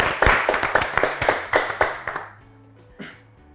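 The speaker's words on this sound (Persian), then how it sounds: "تشویق کنین." A studio audience on a quiz show claps in a brief burst of sharp, rhythmic hand claps that thin out and stop after a couple of seconds, followed by near silence.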